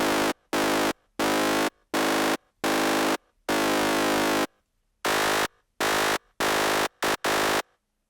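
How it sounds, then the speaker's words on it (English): A series of loud, buzzy FM synthesizer tones in bursts of varying length, separated by brief silences, harsh and metallic in character. "you can make clicky sounds again"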